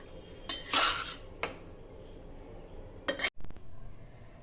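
A spoon scrapes and clinks against a pot while masala khichdi with fresh coriander is mixed, with a few short bursts of metal-on-metal stirring separated by quiet gaps.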